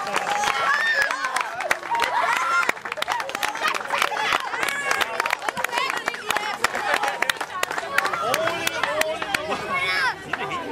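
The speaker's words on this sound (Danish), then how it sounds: "Og skal vi så klappe en lille smule af guldvinderne" An audience at a children's week event claps for the gold-winning green team: a dense, steady patter of many hands across the whole stretch, with voices talking over it.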